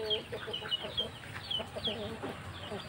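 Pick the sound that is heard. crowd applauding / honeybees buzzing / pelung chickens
pelung chickens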